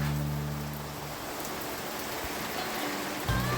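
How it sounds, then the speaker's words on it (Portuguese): Steady rain falls outdoors at a rural chalet building site, a dense, even hiss of drops that continues without a break, with a faint low hum underneath. "olha a chuva que tá dando"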